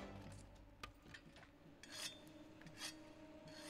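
Rasping, scraping strokes of a whetstone drawn along a hunter's weapon in Monster Hunter World, a few close repeated scrapes with small metallic clinks against a busy game background.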